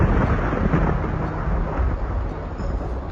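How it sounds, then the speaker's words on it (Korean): Deep rolling thunder rumbles loudly and continuously from dark storm clouds approaching over the Cambodian countryside, a heavy low roar with no voices. "짙은 먹구름과 천둥이 다가옵니다."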